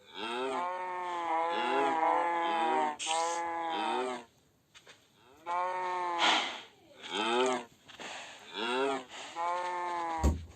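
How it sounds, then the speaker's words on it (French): Cows moo and sheep bleat in Minecraft, repeated drawn-out calls overlapping one another, close and loud, with short pauses between. "j'ai mis des moutons et des vaches"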